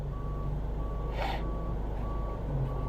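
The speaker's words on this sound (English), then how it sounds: "is this garbage truck really got the reverse beep on even when he's parked?" A parked garbage truck sounds its reverse alarm, a steady repeating beep at even intervals heard from a short distance over a constant low engine rumble, with a brief whoosh passing midway.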